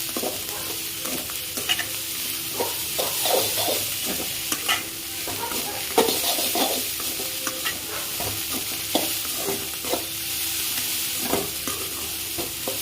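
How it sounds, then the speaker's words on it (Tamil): Broad beans (avarakkai) with coriander leaves sizzle in a pan while a utensil stirs and scrapes in repeated strokes, close and continuous with no talk. "கடைசியாக நம்ம வந்து மல்லித்தழை கலந்து வச்சுருக்கதை போட்டு வதக்கி வச்சுக்கோங்க."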